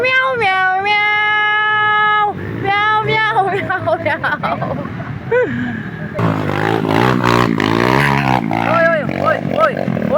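A cat meows repeatedly, with long drawn-out cries that rise and fall, close and loud, while people chatter in the background.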